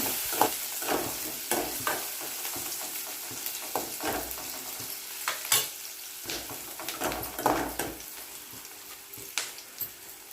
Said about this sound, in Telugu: పచ్చిమిర్చి ఉల్లిపాయ వేసాం కదా ఇదంతా ఒకసారి కలుపుకోవాలి